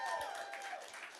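Audience applause and cheering at a live interview with T-Pain, a dense burst of clapping that fills the whole short moment at steady, moderate loudness.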